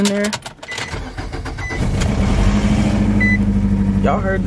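A Toyota Corolla engine cranking and starting up, settling into a loud, steady running rumble close by, with a high electronic chime and a few short beeps over it.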